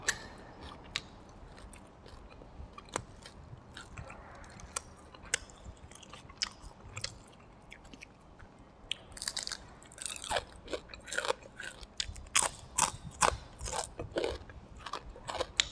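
Crispy fried fish is chewed close to the mic with irregular crunchy bites, quiet at first and then denser and louder in the second half, with no talking.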